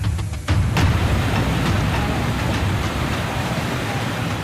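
Heavy monsoon rain falls in northern India, a dense, steady hiss of downpour that stays loud and even throughout, with no voices over it.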